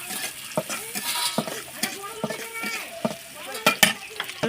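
A chili paste with slit green chilies is stirred in a pan for traditional North Bengal sidol, giving irregular close scraping strokes over a light sizzle.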